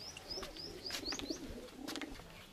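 Pigeons of the kaldum breed in a loft holding around sixty to seventy birds, with soft low coos under a steady stream of higher chirps and rustling, all moderately close.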